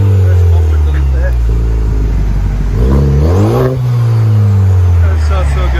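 A Chevy Silverado 2.7L turbo engine with a muffler delete idles loudly, then revs up and falls back once, a deep, raspy, close exhaust drone that holds steady throughout.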